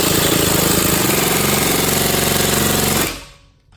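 A Harbor Freight Earthquake air impact ratchet hammers on a bolt torqued to 70 foot-pounds, producing a loud, rapid, continuous pneumatic rattle for about three seconds before cutting off abruptly into quiet.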